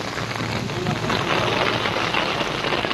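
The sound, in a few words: heavy unseasonal rain during a farm inspection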